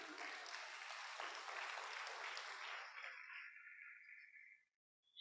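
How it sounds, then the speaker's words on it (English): An audience at a community talk on Jewish life in Newburyport claps in a close, dense burst that thins and fades out over a few seconds before falling silent. "Let's clap for that."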